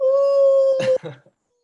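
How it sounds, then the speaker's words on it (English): A wolf or dog howl played as a sound effect during a tabletop game session, one long, steady, loud tonal note that breaks off abruptly, followed briefly by a voice. "as you hear the second howl"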